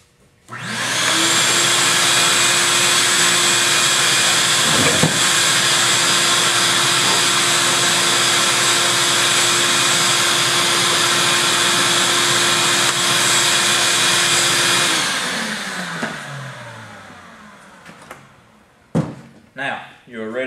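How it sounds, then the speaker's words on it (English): A vacuum cleaner runs loud and steady for about fifteen seconds while cleaning out a grill beneath the removed burners, then winds down, followed by a few knocks and bumps. "vacuum this off and vacuum under here"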